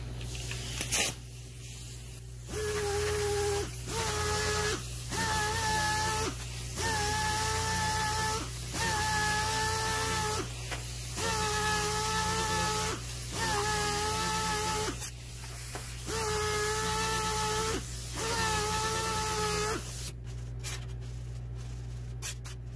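A 3M Cubitron Velcro-backed abrasive disc on a power tool cleans up thin sheet metal edges before TIG welding, with repeated close bursts of high whining grind, each several seconds long, separated by short pauses.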